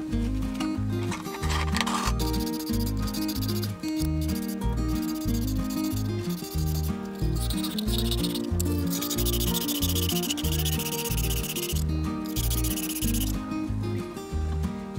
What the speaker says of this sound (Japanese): この手前のところと奥だけ磨いておきます